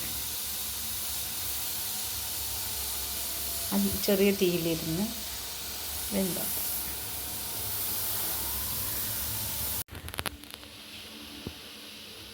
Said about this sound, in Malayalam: നന്നായി ആവി വരുന്നുണ്ട്